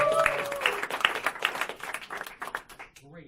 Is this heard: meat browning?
no